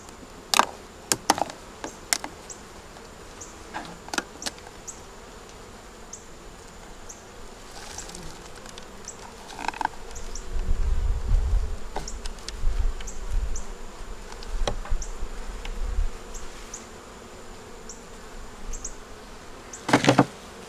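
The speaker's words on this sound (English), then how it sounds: "There's a bunch of bees in here." Bees buzz inside an opened beehive with a screen bottom, a low droning hum that swells midway, broken by sharp taps and scrapes of hive parts being handled close by.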